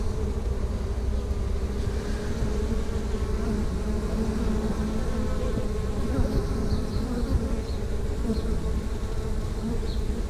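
Honeybees buzz steadily and loudly at close range throughout a hive inspection, a dense continuous drone with no talk over it.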